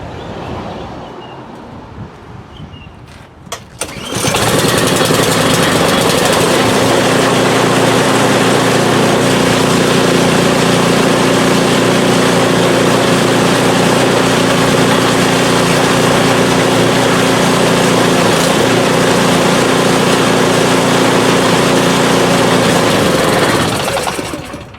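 A PowerSmart 24-inch snowblower engine, spitting out some gas, starts with a few rough pops and then roars steadily at full throttle, loud and close, before easing off at the very end.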